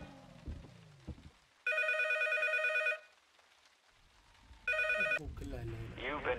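A telephone rings in the horror game Unreal P.T., two loud, sharp electronic bursts separated by a quiet gap, with a voice talking before and after.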